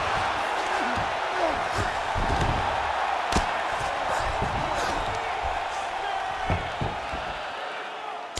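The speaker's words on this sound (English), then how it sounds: "the crowd continues to react with every passing land" A UFC Fight Night arena crowd, Brandon Moreno against Steve Erceg, murmurs and swells in waves of cheering and shouts, with sharp thuds and slaps cutting through the steady roar.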